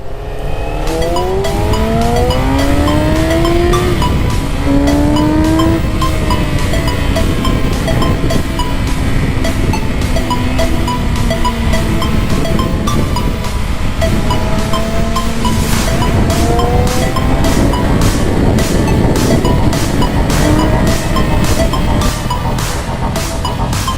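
A 120 hp motorcycle on a short ride through Eskişehir, its engine pulling hard and rising in pitch through the gears, with continuous loud wind rush over the microphone and no talking.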